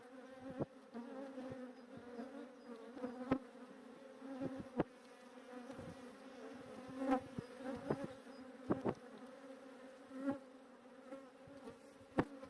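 Steady buzzing of many honeybees around a hive close by, with occasional louder passes and faint clicks over a constant drone.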